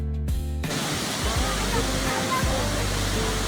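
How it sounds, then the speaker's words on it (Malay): Wachiratan Waterfall in Chiang Mai roars as a steady, loud wash of falling water throughout, with a brief burst of music at the very start. "Wachiratan Waterfall. Majestic."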